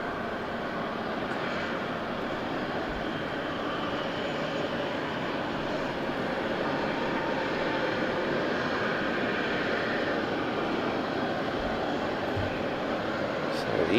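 An easyJet airliner backtracking along the runway at Southend Airport produces a steady, broad jet engine rumble and roar at a distance, constant in level throughout.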